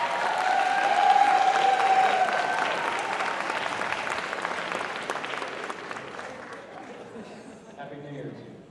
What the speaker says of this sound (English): Give Alex a big round of applause for his work in the ESL office